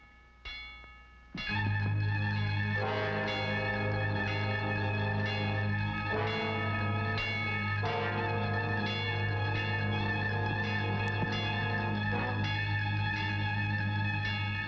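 A large bell tolls loudly and steadily with long ringing overtones and echo, repeated strikes layered over a sustained low hum.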